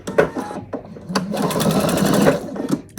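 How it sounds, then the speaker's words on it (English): Sewing machine running a quarter-inch seam through denim placemat rows, its motor whirring steadily in close bursts with short pauses, loudest through the middle stretch. "I'm going to sew these two rows down with, you know, like a 1/4 inch seam"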